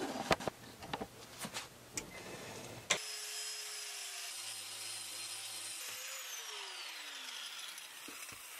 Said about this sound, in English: We're gonna have to cut this thing open.